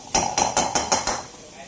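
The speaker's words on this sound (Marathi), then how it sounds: "आणि त्याला चांगलं परतून घ्यायचं काम चालू आहे।" Metal spoon scraping and knocking against a pot while mutton is sautéed with ginger-garlic paste and coriander powder for Kharda mutton, five quick clanking strokes in a steady rhythm, close and fairly loud, then a quiet stop.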